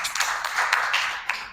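An audience at a press conference claps, a short burst of scattered hand claps, fairly close and fading after a second or so.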